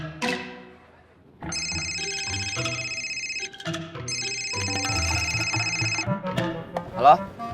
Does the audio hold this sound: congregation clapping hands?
no